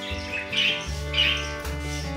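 Pet birds squawk twice in quick succession, sharp and fairly close, over a steady humming tonal background with no one talking.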